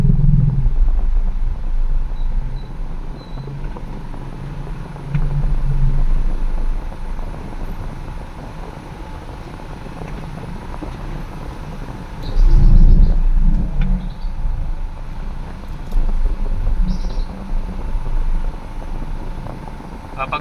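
Morning road traffic in Parañaque, with a continuous low rumble of engines and passing vehicles that swells at intervals as heavier vehicles go by close to the listener.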